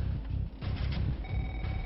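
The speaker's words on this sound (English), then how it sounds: "SWAT contacts Miranda on the phone." A telephone rings steadily during a SWAT hostage standoff, its electronic tone sitting over a low, rumbling background with no talk.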